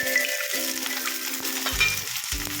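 Steady sizzling of green peas and cauliflower tipped into a hot frying pan for a vegetable pulao, with stirring clatter and a few scraping bumps against the pan throughout.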